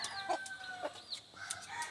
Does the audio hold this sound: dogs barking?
no